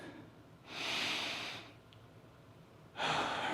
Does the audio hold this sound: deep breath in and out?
yes